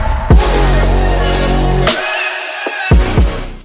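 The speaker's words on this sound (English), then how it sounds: "That's the sound of water knives, ultra-high pressure blasts that cut through the plant" An automatic lettuce harvester cuts plants with ultra-high-pressure water knives, giving a loud, continuous hissing roar that breaks off briefly and then resumes.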